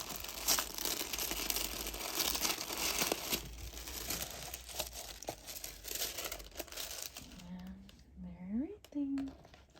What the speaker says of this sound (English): Of course it comes with their usual beautiful packaging that I really don't want to rip.